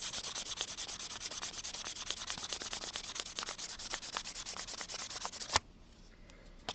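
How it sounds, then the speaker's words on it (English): Sandpaper rubbed steadily across a seam on a granulated anticlastic ring, a close, continuous scratchy sanding with quick repeated strokes that stops abruptly near the end, leaving faint handling noise. "you want to up your grits successively until you've basically sanded that seam into oblivion"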